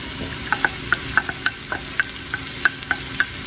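A utensil stirs smoked sausage, potatoes, onion and bell pepper frying in a skillet, with a steady sizzle under a series of sharp scraping clacks roughly every third of a second.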